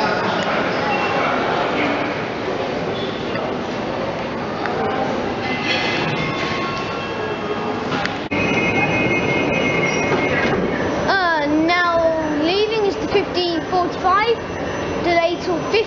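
A Class 378 electric train, unit 378216 running from Stratford to Richmond, rolls through with a loud rumble, then its wheels squeal in rising and falling pitched whines near the end; a voice speaks over the passing train.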